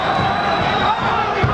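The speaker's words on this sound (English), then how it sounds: "Got tremendous support here in the crowd." A dense, steady boxing arena crowd roar during the Joel Casamayor vs Robert Garcia fight, loud and continuous, with no single voice standing out.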